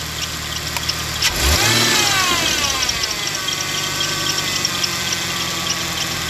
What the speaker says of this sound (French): On va lui donner un coup de gaz.